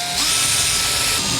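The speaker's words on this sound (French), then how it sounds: "Pour percer du plexi ou du bois comme ça, une mèche à bois, ça va très bien." A drill with a wood bit bores through plexiglass or wood, giving a steady, close, loud whirring drone that holds for over a second without talk.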